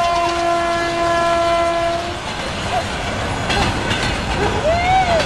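A train passes close by at a sheep grazing area, its horn sounding a long steady blast before the rumbling wheels and clatter of the cars take over, with a squeal near the end.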